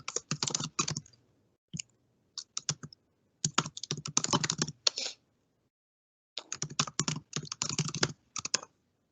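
Rapid keystrokes on a computer keyboard while an email address is typed, crisp close clicks in quick bursts separated by short silent pauses.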